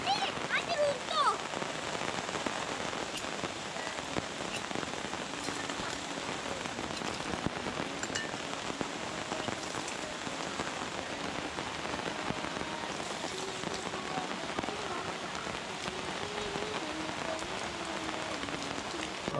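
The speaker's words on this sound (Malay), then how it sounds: "Hujan tiba-tiba turun." Steady rain falls at night on a riverside campsite at Jeram Ngenjur, a dense continuous hiss of drops pattering on surfaces and flysheet, even and unbroken throughout with no clear voices.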